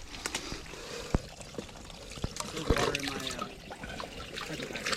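Cold spring water trickling outdoors beside a trail on a long bike ride, a thin continuous dribble of liquid close by with a few sharper splashes and some brief voices around it.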